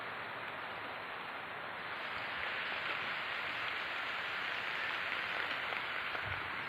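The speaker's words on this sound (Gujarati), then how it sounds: "જોઈ શકો છો વરસાદ આવે છે" Steady rain falls on a farm field, a dense, even hiss that swells slightly after the first couple of seconds and carries on without a break, with no voices.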